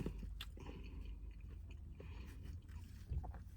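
Crunchy chips from a traditional seaside chip shop being chewed close up, quiet repeated crisp bites and munching with no talking.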